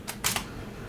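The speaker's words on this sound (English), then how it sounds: "But let's go ahead and take a shot." A Sony A99 II camera fires its shutter once, giving a pair of crisp mechanical clicks close to the mic, followed by quiet room tone.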